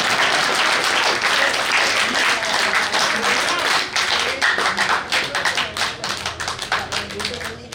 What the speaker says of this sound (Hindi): कुछ मेरा अच्छा लगा हो तो मेरे लिए भी ताली बजा देंगे